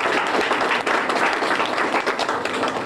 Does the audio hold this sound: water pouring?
no